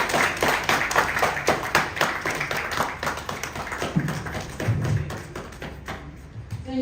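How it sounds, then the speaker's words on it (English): Scattered clapping and tapping from a small audience after a speech on Ghana's gun amnesty, close and uneven, with a few low thumps and no speech over it. "Another round of applause."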